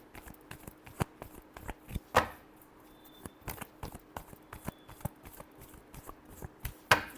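Tarot cards are shuffled in a steady run of crisp, snapping riffles, with a couple of louder slaps along the way and no talking.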